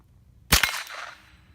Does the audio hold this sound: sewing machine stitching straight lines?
no